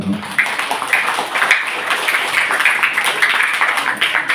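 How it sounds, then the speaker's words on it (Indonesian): Audience applause at an Indonesian religious lecture, steady broadband clapping from many hands filling the room for several seconds, moderately loud with a little background voice. "Tepuk tangan ya Bapak Ibu."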